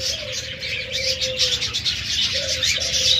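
Caged budgerigars, cockatiels, doves and lovebirds call together, with a dove's drawn-out coo over a dense, continuous chatter of chirps close by.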